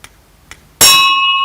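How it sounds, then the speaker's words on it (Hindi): A single bright metallic ding as a spinning weight on a centrifugal-force demonstrator strikes a small bell, preceded by faint taps and then ringing clearly with a long, sustained decay. "यह इस घंटी को छू जाता है।"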